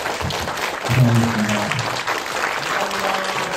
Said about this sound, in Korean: 박수로 이 자리를 마무리하도록 하겠습니다.